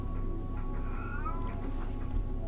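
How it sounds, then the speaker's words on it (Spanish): A house cat meows in a long, drawn-out wailing cry, close and clear over a steady low background hum; no one speaks. "ese gatito que siempre escuchan en casi todos mis videos se llama Llorón"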